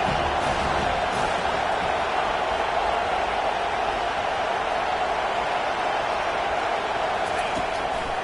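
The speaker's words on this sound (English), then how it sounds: "Big 3rd down as the crowd gets behind this defense." Football video game stadium crowd roars steadily behind a defense on a big third down, a dense continuous wall of cheering and noise that holds at an even level throughout.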